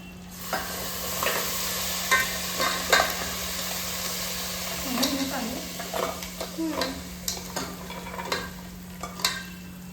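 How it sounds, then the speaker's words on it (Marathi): Crabs stirred into a sizzling curry in a pan, a steady frying hiss with scraping stir strokes and occasional clinks, close up and continuous. "आता हे सगळ्या चिंबोऱ्या आपण घालणार आहोत."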